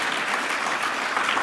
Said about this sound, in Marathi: शिक्षकांसाठी टाळ्या झाल्या पाहिजे.